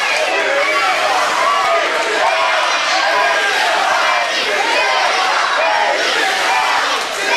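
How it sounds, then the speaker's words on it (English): A loud, angry crowd at an SWE Fury wrestling show in Canton shouts and jeers in a dense, continuous roar that stays at a steady level throughout, with no single voice standing out. "Good grief, this crowd is livid."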